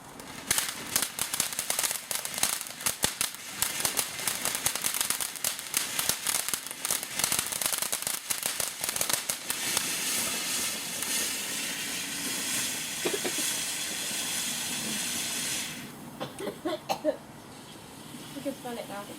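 Fireworks from a 2014 celebration crackle and pop in a dense, continuous barrage of sharp bursts, loud and close, easing into scattered bangs near the end while voices talk underneath.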